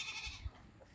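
Goats on a free-ranging farm on Maringkiq island give a short, fairly quiet bleat over soft background noise.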